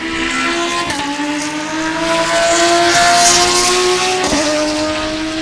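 Spec Corvette and Lamborghini race cars roar around the Sebring circuit in a GT race, a dense, loud engine drone with rising and falling pitch as cars pass, with a faint tire squeal.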